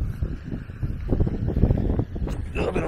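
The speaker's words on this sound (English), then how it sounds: "A little bit of wind" Wind buffets a microphone at a beach in Kep, Cambodia, a steady low rumble of gusts running throughout at close range, with no voices present.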